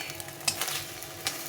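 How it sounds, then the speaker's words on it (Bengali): An egg fries in a hot pan, giving a steady low sizzle with a few brief clicks and scrapes close by, no voices. "কতটা সুন্দরভাবে ডিমটা ভাজা হয়ে গেছে"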